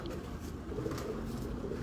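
A pigeon coos softly and repeatedly in low, rounded murmurs over a steady background hum, fairly faint and close.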